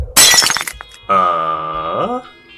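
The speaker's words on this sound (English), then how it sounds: "All of you hear the sound of glass cracking." Glass cracks and shatters in a sharp, bright burst of breaking fragments. A short pause follows, then a sustained tonal drone that bends downward in pitch before cutting off.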